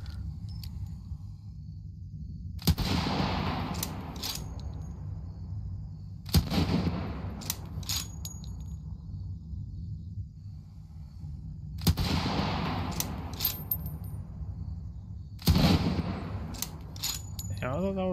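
Gunfire in the zombie game Undead City, four sharp bursts of shots spaced several seconds apart over a steady low game ambience, with a player talking at times.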